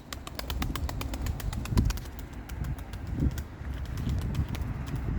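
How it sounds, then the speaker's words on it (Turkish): An old tumbler pigeon coos softly over steady background noise, with occasional wing flutters and faint chirps throughout. "Arkadaşlar çok yaşlı bir kuş"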